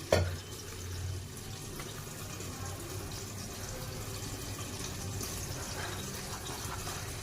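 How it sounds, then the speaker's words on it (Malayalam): Water pours in a steady, continuous stream into a container of dosa batter mix, a soft rushing splash that lasts throughout after a brief knock at the start. "അത് നമുക്കൊന്ന് വെള്ളം ഒഴിച്ച് കൊടുക്കാം"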